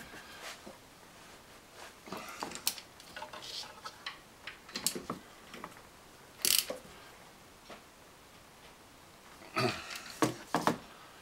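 A torque wrench clicks and ratchets while alternator bolts are tightened on a Mazda B4000 pickup, giving scattered sharp clicks and a few louder bursts at close range with no talking.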